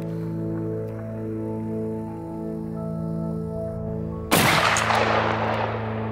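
One loud shotgun blast fired at a target 60 meters away rings out suddenly after a steady droning hum and trails off with a long, fading echo.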